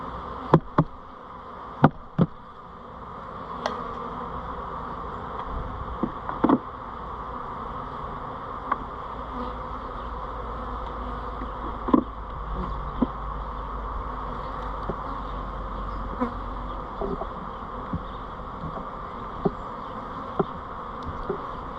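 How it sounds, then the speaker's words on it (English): Yellow jackets buzz around a beehive during a November check, a continuous droning hum with occasional louder passes and small clicks, close and alone. "We got yellow jackets flying around."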